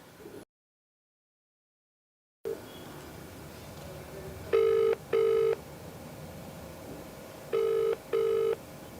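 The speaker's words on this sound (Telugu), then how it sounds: "కాల్ చేస్తానండి." A telephone call connects after a short silence: a steady tone, then two pairs of electronic ringback tones in a regular rhythm, clear and moderately loud with no talking.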